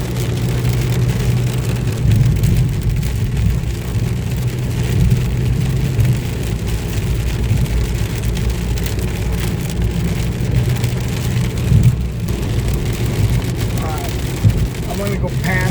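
Heavy thunderstorm rain drums steadily on a vehicle driving down a highway, a dense continuous wash over a low road and engine rumble that stays loud throughout, with no clear voices.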